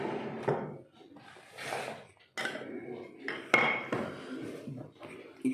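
Dishes and cutlery set down at a dishwashing station after a meal, with several clinks and clatters of plates and utensils landing on a hard surface, close and intermittent over a busy background.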